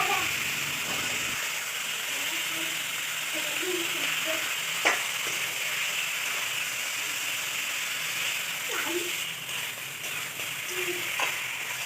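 Pieces of desi (country) chicken fry in a spice paste, giving a steady, quiet sizzling hiss with occasional soft stirring clinks and faint pops throughout.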